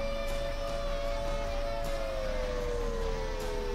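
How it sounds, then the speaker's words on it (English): Tornado warning sirens wail steadily in the distance during a storm, a long sustained tone that slowly falls in pitch over a constant background rumble. "Yep, tornado warning, or tornado sirens."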